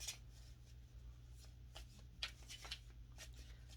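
Tarot cards being shuffled by hand during a reading, a soft steady riffle of papery flicks and slides with a few sharper snaps, close and quiet against a low background hum, with no talking.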